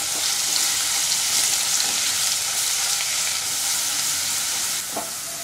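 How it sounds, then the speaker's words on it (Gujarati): Garlic chutney sautés in hot oil in a pan, giving a loud, continuous sizzle with occasional stirring scrapes and no voices. "ચટણીને આપણે થોડી સાતળી લઈએ."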